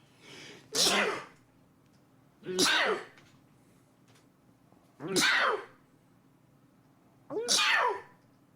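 Four loud sneezes, close up, evenly spaced a couple of seconds apart, each with a short intake before the burst, quiet between them.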